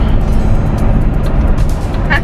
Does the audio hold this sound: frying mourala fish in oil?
no